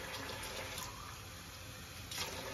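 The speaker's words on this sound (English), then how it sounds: "I'm just gonna turn on my uh, kitchen tap here." Water running steadily from a kitchen tap into a microwave steam cleaner, a continuous close hiss and splash that stays even throughout, with no talking.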